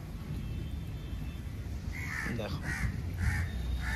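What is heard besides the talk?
crow cawing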